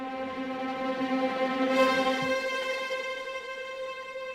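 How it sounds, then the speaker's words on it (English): Chamber strings from a sample library sustain a bright tremolo chord at moderate loudness for several seconds, with no voices over it. "making the sound more of a tremolo sound"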